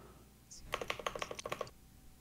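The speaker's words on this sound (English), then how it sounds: "carry us as I keep typing." Quick bursts of keystrokes on a computer keyboard during an online Street Fighter V session, about a dozen close, crisp clicks in a second-long run, fairly faint over low background hiss.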